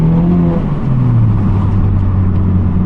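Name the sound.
four-cylinder car engine accelerating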